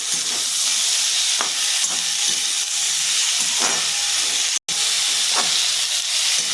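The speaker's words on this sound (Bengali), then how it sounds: "এদিকে আমার এগুলো ভাজা হোক" Steady hiss of spices with turmeric frying in a hot pan, with occasional soft scraping stirs and a brief dropout near the end.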